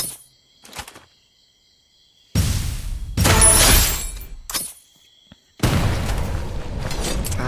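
Two loud bursts of explosive noise in the video game Free Fire, each a sudden broadband blast that rumbles and crackles before fading, separated by a brief quiet gap.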